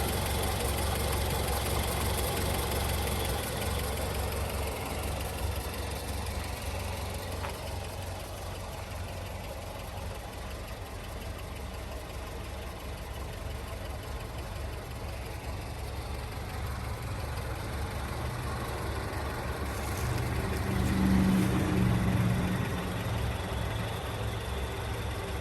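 A 1932 Ford Model B engine idles steadily while warming up, a low, even rumble with a light rhythmic knock, continuous and close, briefly swelling louder near the end.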